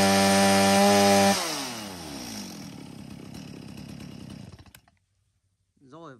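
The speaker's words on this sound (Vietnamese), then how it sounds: "Một con máy cưa hàng của Đức" A German Stihl chainsaw revs loudly at high speed, then drops to a throbbing idle that winds down and cuts out, followed by a short voice after a pause.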